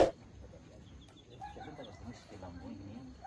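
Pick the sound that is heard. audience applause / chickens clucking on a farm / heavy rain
chickens clucking on a farm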